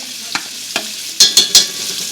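Homemade Mexican chorizo hitting hot bacon fat in a pan, a steady sizzle broken by several sharp scraping stirs, with three louder clustered strokes near the end.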